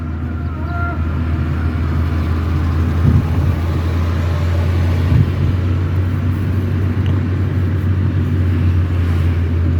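A car rolls downhill at low engine load during a driving lesson, a steady close rumble with road noise that holds evenly throughout without revving.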